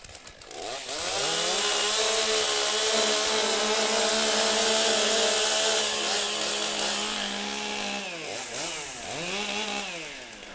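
Several chainsaws warming up together at a STIHL Timbersports Champions Trophy competition in Geelong, a loud sustained roaring drone held steady for about seven seconds before dropping and revving back up in two quick surges, with no voices.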